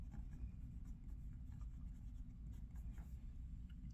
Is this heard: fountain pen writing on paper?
yes